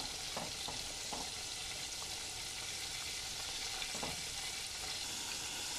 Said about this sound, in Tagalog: kumukulo na siya mga kaatak